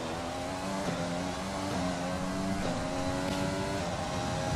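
A Williams Formula 1 car drives out onto the track at the Russia practice session in F1 2020, its engine whining and revving continuously with gear-shift steps, loud and steady throughout.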